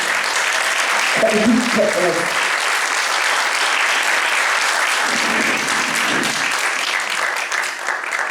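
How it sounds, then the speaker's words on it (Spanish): A theater audience gives loud, sustained applause to welcome guests, dense clapping throughout, while someone talks over it at moments. "Vamos a recibirles con fuerte aplauso."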